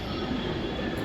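An underground Aqua Line metro train in Mumbai rumbles steadily, a dense continuous roar of rolling wheels and carriage noise filling the space with no voices.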